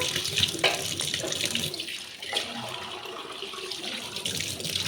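Tap water runs steadily into a kitchen sink as it is scrubbed clean with rice flour paste, a continuous close splashing rush with small shifts in flow and no voices.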